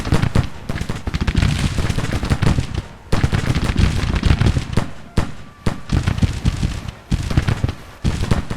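Dense bursts of gunfire from a Union-era battle game fill the scene, rapid crackling volleys and sharp shots stacked loud and close, broken by a few short lulls.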